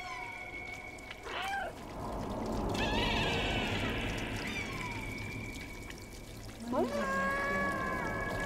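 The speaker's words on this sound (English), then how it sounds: "Meow to see if they hear you." A cat in the video game Stray gives a couple of short meows at the start and again near the end, over a steady pouring, trickling water ambience.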